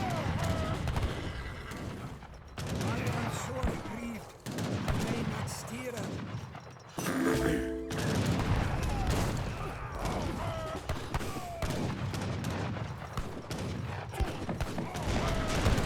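Musket volleys and cannon fire in an Age of Empires 3 battle, crackling bursts of gunfire and thuds repeating throughout, dense and fairly loud, with a voice talking over much of it.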